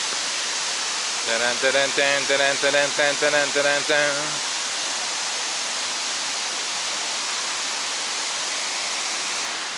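Steady broadband rush of water from the Kravica waterfalls, constant and full throughout, with a short burst of a voice or tonal sound over it near the start.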